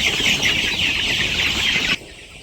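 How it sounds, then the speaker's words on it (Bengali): A flock of village chickens clucks and squawks noisily while being fed, a dense, close chorus that cuts off abruptly near the end. "ভাই আর উমরে মিলা মুরগির খাবার দিয়ে দিতেছে, পানিও দিয়ে দিছে।"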